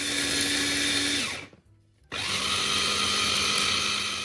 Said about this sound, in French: Je mets mes fruits secs, amandes, noix et pistaches dans mon mixeur et je mixe bien.